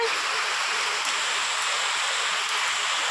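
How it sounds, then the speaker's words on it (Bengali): A dense, unbroken wash of heavy rainfall fills the whole moment, loud and even with no pauses. "বাইরে কিন্তু ভীষণ জুড়ে বৃষ্টি পড়ছে দেখতেই পাচ্ছ"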